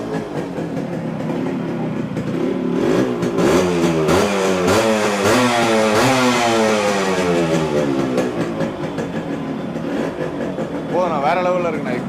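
A Yamaha RX two-stroke motorcycle engine starts up and revs repeatedly, its exhaust note rising and falling in loud, rapid sweeps before settling to a burbling idle, with voices talking over it nearby.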